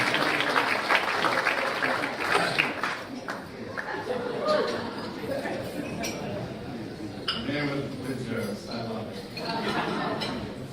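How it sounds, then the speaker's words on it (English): Audience at an awards event at the National Press Club applauding, a broad wash of clapping with clinking dishes and cutlery and chatter around it, while voices talk over the room. "We like a loud applause."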